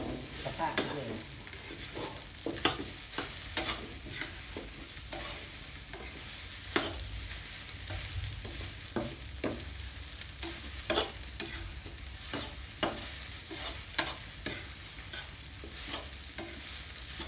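Rice is stir-fried with canned fish in a hot wok, with a continuous sizzle broken by repeated scraping strokes of a spatula. No one speaks.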